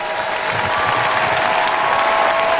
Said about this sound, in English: We hear the fucking clap track.